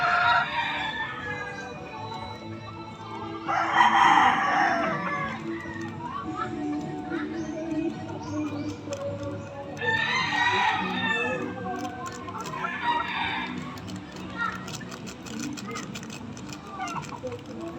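Chickens cluck and a rooster crows a few times in bursts, with a low steady hum and some background activity throughout.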